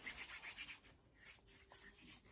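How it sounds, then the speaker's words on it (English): Hands rub together in a quick, rhythmic scrubbing, faint and close, then the friction slows and fades into quieter rubbing with no talking. "So I will be performing hand hygiene again, washing my hands."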